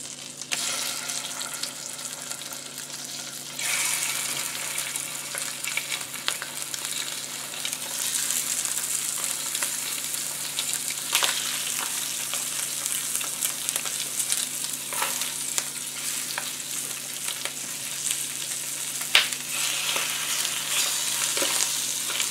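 Butter sizzles steadily in a hot pan while partridges are cooked, a dense crackling hiss that grows fuller after a few seconds and carries on close and unbroken, with occasional faint clinks.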